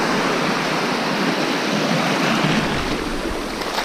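Sea waves wash onto the shore at night at Eastbourne, a steady close rushing surf that swells and fades slightly across the few seconds, with no voices.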